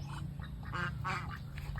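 Ducks quack repeatedly in short nasal bursts over a steady low rumble, close by and fairly loud.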